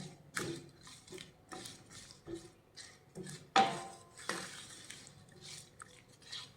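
Spoon clinking and scraping against a pan while raw mango methamba is stirred after salt goes in, a run of close, uneven taps and scrapes with no voice.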